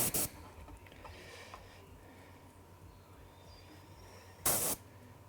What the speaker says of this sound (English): just basically blast the airbrush from there